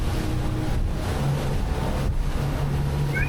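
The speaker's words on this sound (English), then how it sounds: "Outgoing tide, incoming waves, ripping into it" A Jeanneau TH38 catamaran runs at speed into incoming waves against an outgoing tide, with a continuous loud rush of water and wind, a churning hull and spray roar close to the microphone.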